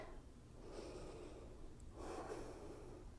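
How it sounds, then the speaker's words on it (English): Slow, soft breaths are drawn close to the microphone while holding a yoga locust pose: two long airy inhale-exhale swells with a short pause between them, faint and without speech. "Breathe."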